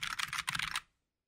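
Rapid typing on a mechanical keyboard, a dense run of crisp, clacky keystrokes with a brief pause midway, close and clear, stopping abruptly into silence after under a second.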